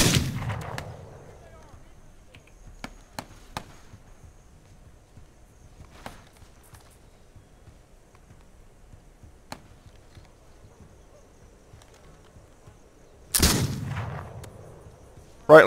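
Sparse rifle shots ring out in the Western video game This Land Is My Land, a few sharp distant cracks spread across long quiet stretches, then a loud, close blast near the end and a final shot.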